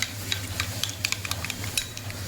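Spoon stirring a spiced yogurt paste into cooked onions in a pan, repeated quick clinks and wet scrapes over a soft steady sizzle, close and clear, with no one talking.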